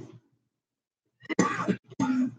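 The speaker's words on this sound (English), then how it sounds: "And he still has the cough" An elderly man with heart failure gives a short, close, throaty cough in two quick bursts after a brief quiet moment.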